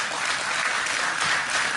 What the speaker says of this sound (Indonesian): tepuk gak apa-apa, gak usah sungkan-sungkan